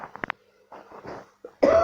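Several short, dry coughs in quick succession, close and fairly quiet, followed by throat noises and a brief voice.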